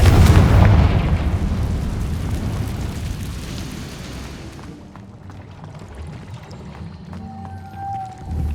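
A Confringo explosion spell goes off in the video game Hogwarts Legacy, a loud booming blast that rumbles and fades over several seconds, ending in a short high magical tone.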